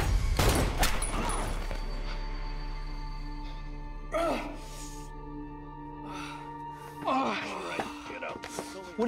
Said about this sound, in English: She shot me!